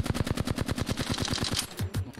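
Rapid automatic gunfire in the video game Apex Legends, a fast even burst of about twenty shots lasting two seconds with a couple of louder trailing shots, heard alone without talk.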